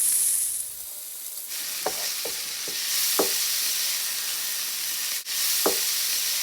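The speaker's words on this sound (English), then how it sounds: "Now I'm going to cut up 2 strips of bacon into a very hot pan." Bacon strips sizzle in a very hot pan with a steady hiss. Several sharp spatter pops and utensil clicks are scattered across the sizzle, and no voices are heard.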